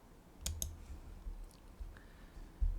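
A computer keyboard is tapped for a Ctrl+S save during architectural modelling work, giving two quick close clicks and then a few fainter taps in a quiet room.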